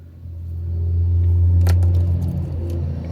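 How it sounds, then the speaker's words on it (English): A road vehicle passes nearby, a deep rumbling swell that builds and fades over a few seconds, with faint clicks and rustles on top. "Sorry for the traffic"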